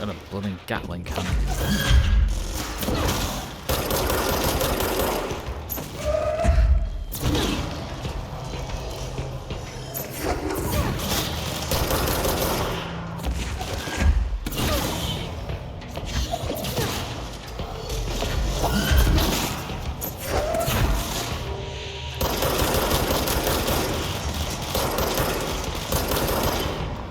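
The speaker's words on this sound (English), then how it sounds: "Got a bloody Gatling cannon." Gatling cannon firing in the video game Control, dense rapid bursts of gunfire with clanking impacts and crashes across a long busy stretch, with talking mixed in at times.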